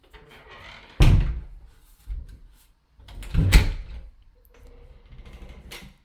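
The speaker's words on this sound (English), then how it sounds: "I need to go shut the garage door because kitty cats are not supposed to be in there" A garage door being shut at home: a loud thud near one second, a smaller knock, then a heavier rumbling slam around three and a half seconds, with faint rattling and handling noises between.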